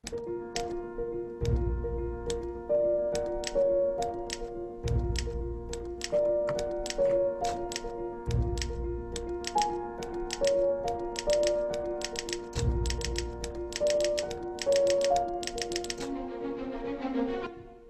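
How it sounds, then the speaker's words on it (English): A typewriter used as percussion in the Atonement film score clacks in quick rhythmic bursts and carriage bells over sustained piano chords and plucked pizzicato strings, with no talk. "and then we have the typewriter"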